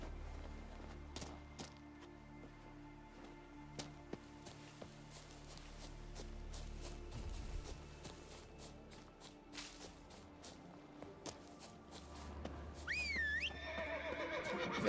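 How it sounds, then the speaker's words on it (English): A horse whinnies near the end of a stretch of The Witcher 3: Wild Hunt gameplay in Velen, following scattered footsteps, light clicks and soft ambient tones. "There's me horsey."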